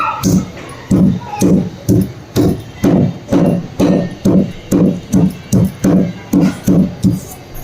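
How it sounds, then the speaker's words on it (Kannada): Cardamom pods being crushed with a heavy pestle or stone, a loud close series of about twenty rhythmic dull thuds pounded at an even pace. "ಇಷ್ಟು ಕ್ವಾಂಟಿಟಿಗೆ ಒಂದು ಮೂರು ಏಲಕ್ಕಿನ ಚಚ್ಬಿಟ್ಟು ಹಾಕ್ತೀನಿ"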